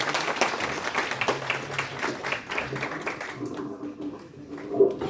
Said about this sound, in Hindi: थोड़ा तालियों की गड़गड़ाहट से थोड़ा।